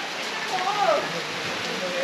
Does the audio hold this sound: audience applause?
no